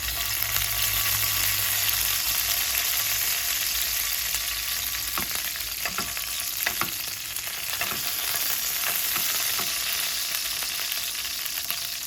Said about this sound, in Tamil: இப்போ இதில் கொஞ்சம் கருவேப்பிலை போட்டுக்கலாம்.